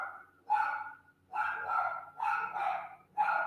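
A dog barks and yips in several bursts indoors, close and fairly loud, some barks carrying a whimpering tone.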